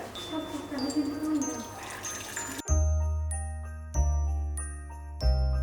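Mulled wine trickles and splashes as it is poured into a cup, followed by a few bright clinking glassy taps ringing out clearly.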